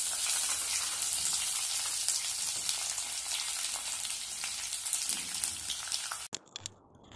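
Shallots fry in a pan for a squid curry, a loud, steady sizzle with crackling that holds up close and then cuts off sharply near the end.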